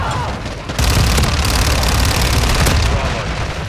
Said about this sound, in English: Hostiles ordered a cruise missile.